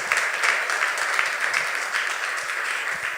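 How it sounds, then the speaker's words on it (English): An audience at a talk claps steadily, a dense wash of many hands applauding without pause. "Please give her a round of applause."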